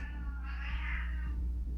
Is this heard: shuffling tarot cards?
no